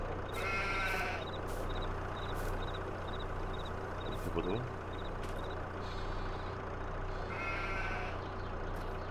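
Sheep bleating in the farming game Farming Simulator 22, several short bleats over a constant low engine-like drone, with a person speaking briefly partway through.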